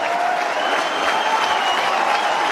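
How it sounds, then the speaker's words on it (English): Stadium crowd at an AFL football match, Hawthorn versus GWS Giants, cheering and applauding in a steady, dense roar of many voices that fills the whole stretch without a break. "And they cheer as Will Day makes his way to the bench."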